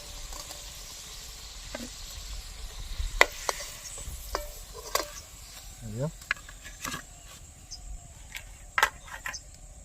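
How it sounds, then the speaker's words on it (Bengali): Mathura-style breakfast cakes frying in oil in a home kitchen, a faint low sizzle under scattered sharp clicks and clinks of a utensil, with soft background sounds and no clear speech. "বাকিগুলো এইভাবে আমি ভেজে নেব"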